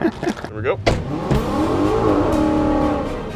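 Car launches off the line at a drag strip, the engine revving hard and rising in pitch, loud and close after a few sharp bursts of noise at the start, with a voice briefly audible early on.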